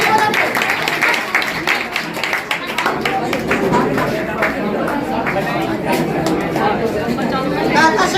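Loud, sustained applause from an audience at a GK competition prize ceremony, steady clapping over crowd chatter and voices throughout.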